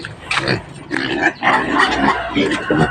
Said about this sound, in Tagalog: Ito yung itong baboy namin.